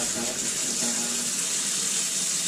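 Water runs from a tap into a sink as a steady, close, even hiss of flowing water with no pauses.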